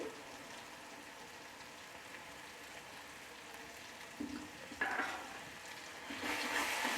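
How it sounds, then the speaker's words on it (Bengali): Sour yogurt stirred and sautéed with spices in a pan for cauliflower curry, a low steady sizzle with scraping stirs that swells louder near the end, no voices. "দিয়ে এটা আবারও ভালোভাবে মশলার সঙ্গে কষিয়ে নেব।"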